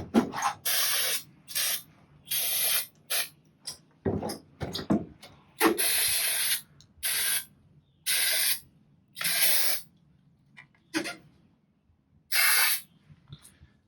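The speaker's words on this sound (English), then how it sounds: "so we'll spray those down." Repeated short bursts of aerosol grease spray onto 5th wheel hitch brackets, about a dozen hissing blasts in an irregular rhythm with brief quiet gaps, close and fairly loud.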